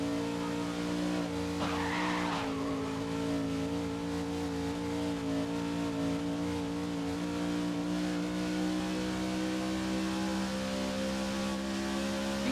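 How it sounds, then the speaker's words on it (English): Loud, steady race car engine drone with tire skid in Grid 2019, the engine note holding a constant pitch throughout and a brief squeal near the start, with no talking. "I think engine sounds might be a tad bit loud"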